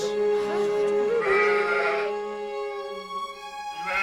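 Sheep bleat in a couple of long, wavering, harmonic-rich calls that are fairly loud and close, with no talking over them.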